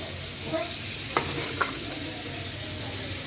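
Oil sizzles softly in a pan being heated for homemade fried rice, a steady hiss with a few sharp clicks of a utensil tapping the pan, close and fairly quiet with no talking.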